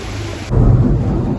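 A sudden low rumble of thunder rolls in over a steady wash of rain in Gurgaon, loud and close.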